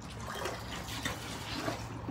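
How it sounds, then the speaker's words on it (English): Water from a garden hose runs into and spills over a bucket outdoors, a continuous close splashing trickle and gurgle with no clear pauses and no talking. "Keep your hose in the other one so it can overflow"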